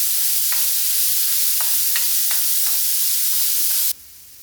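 Onion and green chilli sauté in hot coconut oil with a steady, close sizzling hiss, punctuated by regular scraping stirs, before the sound drops away abruptly near the end.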